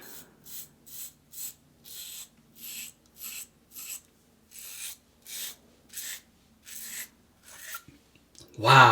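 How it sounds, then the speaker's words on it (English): Yates Precision Merica safety razor with a Feather stainless blade rasps across stubble in about a dozen short, evenly spaced strokes, close and crisp, ending in a louder knock. "Okay, let's do the shave. Yates Precision Merica razor with a feather stainless blade."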